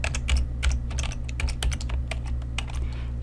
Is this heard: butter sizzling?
no